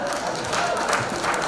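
A brief wash of audience applause fills the room at the 2017 GCA awards ceremony, a steady dense patter of many hands clapping at moderate volume.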